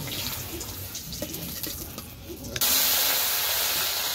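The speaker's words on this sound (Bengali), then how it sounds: "আমি আলুটা ভেজে নিচ্ছি।" Potatoes frying in a pan with a steady sizzling hiss, which jumps suddenly louder and brighter partway through as more goes into the hot oil.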